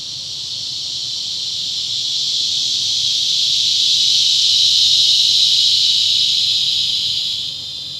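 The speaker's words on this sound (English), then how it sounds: "There, can you hear that? That's the adult cicada." Adult cicadas call in a loud, continuous high-pitched buzz that swells toward the middle and eases off near the end, with no voices over it.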